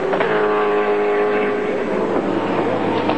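A touring race car at the 1993 ATCC round at Mallala accelerates hard past, its engine howling loudly with a rising then falling pitch as it passes close by.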